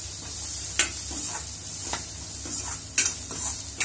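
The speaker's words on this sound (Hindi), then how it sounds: "और फिर इसमें हम डाल देंगे ये प्याज कटी हुई और इसे भी अच्छे तरीके से फ्राई होने देंगे" Chopped onions frying in a pan for besan arbi sabzi, a steady loud sizzle with occasional sharp stirring scrapes and clinks, no voices.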